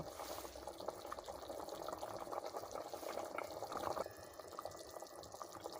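Water runs steadily into a sink over raw beef, a constant splashing, gushing fill that stays close and fairly quiet, with no voices over it.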